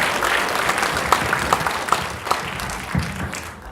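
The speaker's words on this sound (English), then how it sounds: "Please give it up, a big warm welcome for Alistair Legrand." Audience at a film festival applauding to welcome a director onto the stage, steady clapping from a large crowd with a few louder individual claps standing out, sustained throughout.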